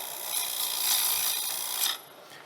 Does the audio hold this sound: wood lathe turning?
yes